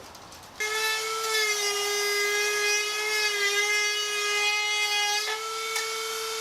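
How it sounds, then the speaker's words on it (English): A Dremel rotary tool grinds out a hole in a skull garden decoration, a steady high-pitched motor whine with a grinding edge running continuously for about six seconds, close and with no talking. "Probably one, maybe two more passes with the Dremel ought to do"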